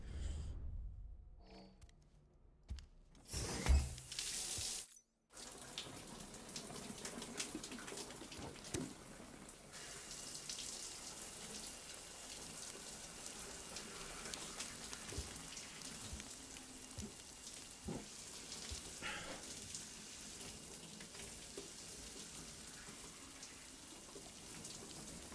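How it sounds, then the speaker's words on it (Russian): Steady hiss of a running shower spraying water, continuous and fairly close, after a few seconds of sparse clicks and short gaps, in Death Stranding. "Он говорит, душ принять хочу."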